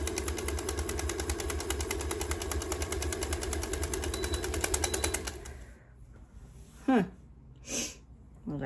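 A spinning pottery wheel drones with a steady, dense mechanical whir that runs loud for about five seconds and then cuts out, leaving a quiet room broken by a couple of short breathy sounds.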